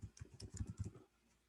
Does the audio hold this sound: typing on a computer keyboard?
yes